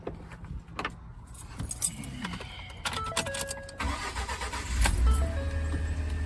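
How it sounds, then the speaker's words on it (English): A truck engine cranks and starts on a cold day in Kentucky, preceded by jangling keys and a few clicks, then settles into a steady, close idle rumble. "While we wait for the truck to warm up"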